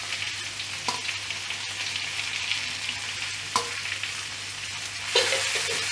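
Fried fish, chillies and onion sizzle in hot oil for a spicy fish dish, with a steady close crackle and a few sharp stirring knocks and scrapes, and no voices.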